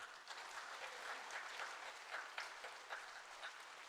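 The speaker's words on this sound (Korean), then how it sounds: "우리 하나님 앞에 감사 박수 올리겠습니다." A church congregation applauds in thanks: a soft, steady patter of many hands clapping together, heard faintly and at a distance, with no talking.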